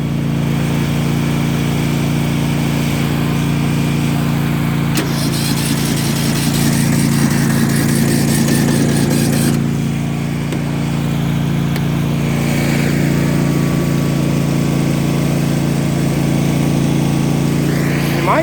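A Yard Machines lawn mower engine runs close by with a steady, loud droning hum and slight shifts in pitch, and no one speaks.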